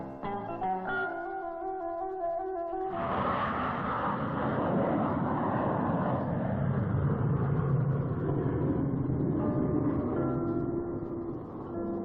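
An aircraft at Manchester's Ringway airport roars steadily for about nine seconds, loud and broad-band, after a brief stretch of music.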